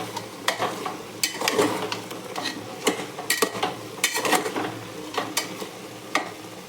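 Chicken curry with coconut is stirred in a pan, the spoon scraping and clacking in irregular strokes over a faint sizzle, close and clear with no talk.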